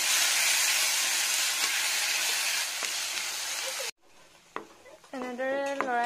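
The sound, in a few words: tomato paste cooking in melted butter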